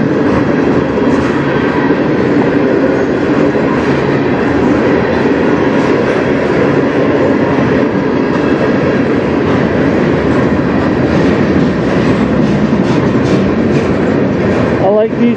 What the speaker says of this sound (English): These manifest trains, there's always lots of variety to see.